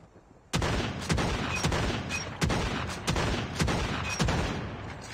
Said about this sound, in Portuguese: Ela atira rápido também, quer ver?